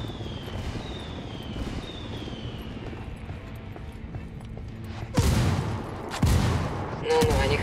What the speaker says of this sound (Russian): Запрашиваю отвлекающий огонь.